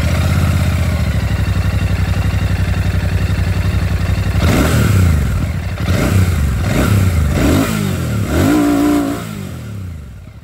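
A 2025 Royal Enfield Classic 650 Twin motorcycle, its twin-cylinder engine idling with a steady, close throb and then rising through several sharp revs, with no voices over it.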